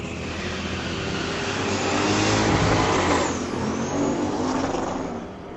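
A 1972 Chevy Nova and a 2003 Chevy S10 drag race at a street-legal drag strip, engines roaring loud and continuous as they swell past and recede.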